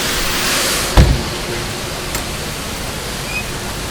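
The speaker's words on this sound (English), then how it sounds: "This is the water coming out of the screen." Water gushing out of a traveling screen at a coal-fired power plant, a loud, broad, steady rushing roar with a sharp thump near the start, no talking.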